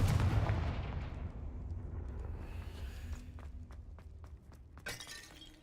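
A Confringo fire spell blasts in Hogwarts Legacy: a loud, booming explosion opens and rumbles away over several seconds, followed by scattered crackling debris and a second sharp burst near the end.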